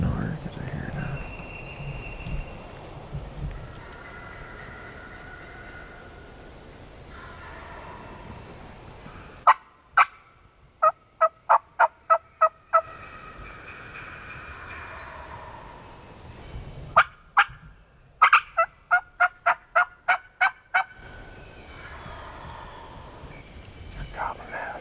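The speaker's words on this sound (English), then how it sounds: "Gobbling out that last 2 times." Wild turkeys on Mississippi public land gobble in the distance, faint and intermittent under soft whispered talk from nearby hunters, with sharp clicking sounds breaking in twice.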